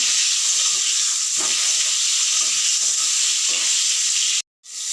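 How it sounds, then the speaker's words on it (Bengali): Pointed gourd pieces fry in hot oil with a steady, bright sizzle, close and continuous, with a few soft knocks and a sudden cutoff near the end. "পটলগুলোকে মিনিট পাঁচের ধরে ভেজে নেব"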